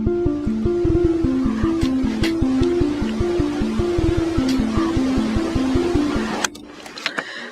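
A sampled nylon-string guitar from the Revitar plugin in FL Studio plucks a repeating pattern of notes in a hip-hop beat, close and fairly loud. The pattern fades out near the end, leaving a few scattered hits and no talking.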